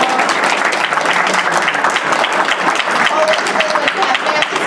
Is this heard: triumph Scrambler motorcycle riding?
no